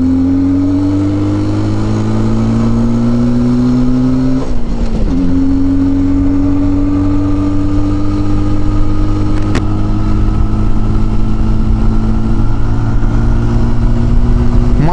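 An IZh Orion motorcycle engine idling in neutral on choke, a steady, loud close-up drone with a lowered pitch near the middle, then a settled, even idle for the rest of the clip.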